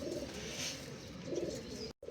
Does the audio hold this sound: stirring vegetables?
no